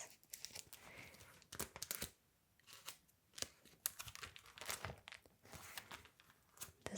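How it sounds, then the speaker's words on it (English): Pages of an old photo album with plastic sleeves are turned: close, soft crinkles and crisp rustles in separate bursts, with quiet pauses between them. "I just love the sound of pages turning on these old photo albums."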